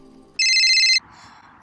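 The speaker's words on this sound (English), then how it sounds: "Oh look, my phone's ringing." A phone ringtone bursts in loud and close as a single bright electronic ring lasting about half a second, surrounded by quieter tonal game-like sounds.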